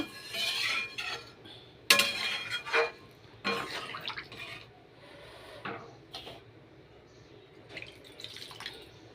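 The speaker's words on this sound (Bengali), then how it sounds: "এই যে জল দিয়ে দিলাম পরিমাণ মতন" Water poured into a pan of egg and potato curry, with splashing pours and bursts of water alongside clinks of utensils on the pan, close and moderately loud.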